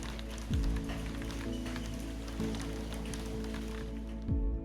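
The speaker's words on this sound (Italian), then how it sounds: "ad attendermi una pioggia leggera" Light rain falls steadily in a village in northern Vietnam during early December, a constant soft hiss with a low hum beneath and a few brief louder swells.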